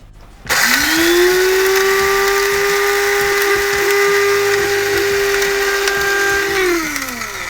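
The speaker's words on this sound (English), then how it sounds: "You just grind this up." Dried rosemary is ground in a small electric grinder whose motor starts abruptly, holds a steady, loud whirring whine for about six seconds, then winds down; no voices.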